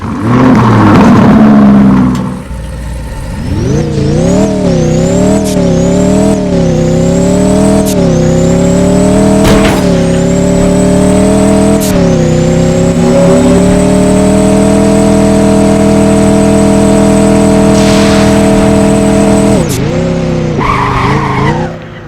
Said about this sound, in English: that was the sound for the Urus.